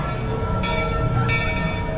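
A full-size train at Knott's Berry Farm theme park rumbles past close by, a loud steady roll of wheels and carriages filling the whole moment with no talk.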